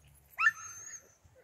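A Newfoundland dog gives one short, clear whimper, a high whine that rises and then trails off, heard alone against near silence.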